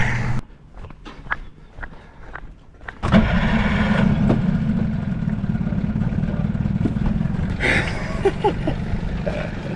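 After a few clicks and knocks, the small outboard motor of a budget mini speed boat starts abruptly and runs on as a steady, loud droning hum.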